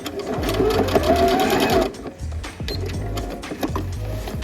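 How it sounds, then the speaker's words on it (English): Sewing machine back stitching on a denim dress, a steady close whirr that stops near the halfway point, then a softer, uneven run of stitching follows. "I'm just gonna go as far as I can, and I'm gonna back stitch"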